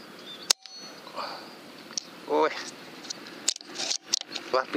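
Air rifle shots fired with slug pellets through a smooth-twist barrel on an FX-style Phantera model, heard as several sharp, brief cracks spaced apart, with a fainter rustle and clicks between them.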